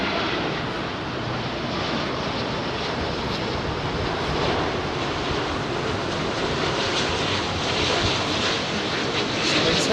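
Virgin Airbus A350 with Rolls-Royce Trent XWB jet engines at Heathrow Airport, a broad continuous roar of engine noise holding steady and loud for the whole stretch, with no talk over it.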